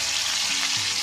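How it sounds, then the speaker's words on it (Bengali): Fish sizzles loudly in hot oil in a pan, a dense, crackling hiss heard up close for a brief moment. "আর এই যে এখানটায় আছে মাছটা এবার ভেজে নেব।"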